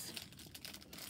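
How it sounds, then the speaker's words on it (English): Scissors cut open a thin plastic Lego advent calendar packet, close crinkling and snipping, a few brief rustling cuts in quick succession, fairly quiet. "Now I'm going to use my handy scissors"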